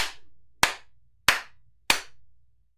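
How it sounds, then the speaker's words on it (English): Four sharp, close hand claps ring out alone at an even pace, each with a brief decay into near silence. "Looks good, but do the clap."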